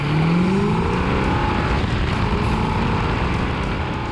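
A 1970 Plymouth 'Cuda with a 440 six-barrel V8 drives along the road, its engine roaring loud and steady from start to finish with no voices.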